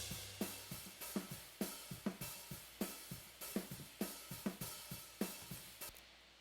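Drum kit through an overhead microphone carrying both shells and cymbals, a steady groove of kick and snare hits under ringing cymbal strokes, even and rhythmic throughout, played alone without voices.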